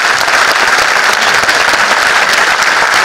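Loud, dense audience applause at an interview event with an agricultural speaker, steady and continuous throughout with no break, many hands clapping together close and full.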